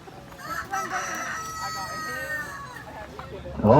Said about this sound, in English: Bunch of roosters.